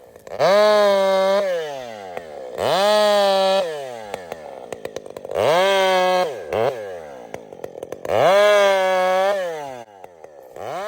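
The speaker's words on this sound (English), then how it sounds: "this thing pulls a 32-inch bar. Factory. It holds it like nothing, carries it, doesn't stress the mounts out. It's wonderful. This is a wonderful power saw." A chainsaw with a factory 32-inch bar revving loudly in repeated bursts, four long high-pitched roars separated by lower idling with rattling clicks, close and alone.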